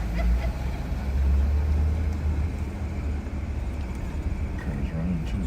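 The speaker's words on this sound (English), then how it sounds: "Cars running" A car engine running at a roadside police patrol stop, a steady low idling rumble that fills the whole stretch at moderate loudness, with faint voices underneath.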